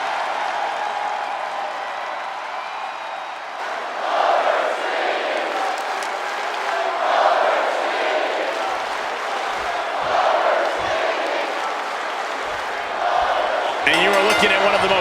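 A crowd at a WWE wrestling show keeps up a steady roar that swells in waves, with a commentator talking over it throughout.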